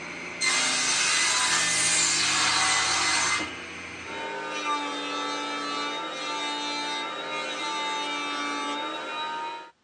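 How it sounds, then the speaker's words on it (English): A saw cuts planed wooden bed pieces to length, opening with a loud, bright burst of cutting noise for about three seconds, then a lower, steady whirring hum with tonal overtones as it runs down. "Now that I have the pieces planed, I can cut them to length"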